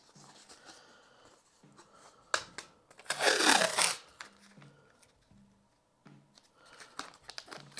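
Masking tape is burnished down onto wood with light rubbing and scratching strokes, capped by one louder, brisk rubbing burst midway, all close and fairly quiet.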